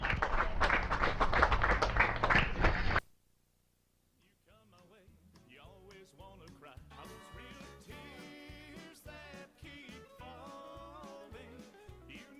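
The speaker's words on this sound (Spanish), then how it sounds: "Un aplauso, por favor." A Beefmaster cattle show audience applauds the grand champion female in a loud burst of dense clapping for about three seconds. It cuts off abruptly into silence, and soft music with a steady beat follows.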